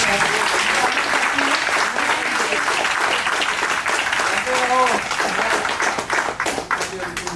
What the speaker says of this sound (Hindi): मैं आप लोगों की तरफ से एक बार और जोरदार तालियों की